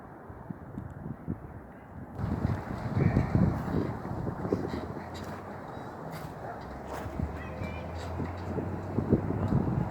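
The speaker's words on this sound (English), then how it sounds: "That wind's picking up now." Wind gusting outdoors around a homemade wind turbine built from a converted baby stroller, rising into a rushing buffet on the microphone after a quiet start, with a voice speaking now and then.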